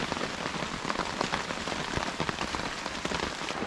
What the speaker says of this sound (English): I was just thinking about how ridiculous this rain is.